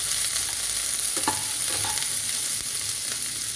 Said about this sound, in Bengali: পেঁয়াজটা ভাজার সময় একটু নুন দিয়ে দেবো, তাহলে তাড়াতাড়ি পেঁয়াজটা মজে যাবে।